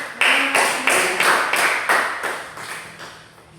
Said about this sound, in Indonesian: Kita berikan tepuk tangan dulu untuk